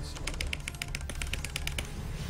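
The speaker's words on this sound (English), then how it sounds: "I've got a mechanical keyboard." Rapid clicky keystrokes from a mechanical keyboard, a steady run of sharp taps at close range over a low background hum.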